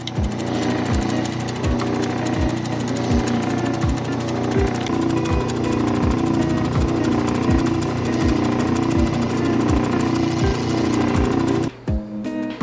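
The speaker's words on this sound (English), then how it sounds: "this is the last wheel, the 2000 grit polishing or pre-polishing wheel" A motor-driven 2000 grit polishing wheel works a jadeite bead, giving a steady loud machine drone with a regular thumping pulse about twice a second, running continuously and cutting off briefly near the end.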